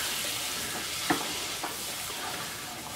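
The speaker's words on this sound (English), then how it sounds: "we're going to put in about 4 tablespoons of just all-purpose flour in with our half a stick of butter. And we're going to cook this off" All-purpose flour and half a stick of butter cook into a white roux in a pan, giving a soft, even hiss with a couple of faint utensil taps, close but quiet and without speech.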